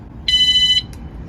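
A VanGuardian van alarm gives one sharp, loud electronic beep for about half a second as it is disarmed by remote, followed by a faint short chirp and quiet room tone.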